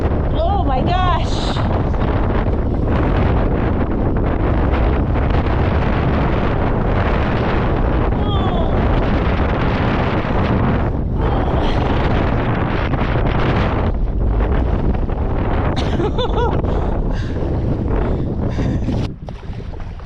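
Strong, gusty wind buffets the microphone while paddling a boat through heavy wind on the river at Horseshoe Bend, making a loud, continuous rumbling roar with surging gusts, and voices call out over it.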